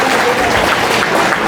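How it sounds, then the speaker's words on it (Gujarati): An audience at a school prize distribution ceremony claps loudly and steadily, a dense, even wash of applause throughout. "એકવાર જયંતિભાઈ માટે જોરદાર તાળીઓ થઈ જાય."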